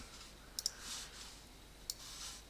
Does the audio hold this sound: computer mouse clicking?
yes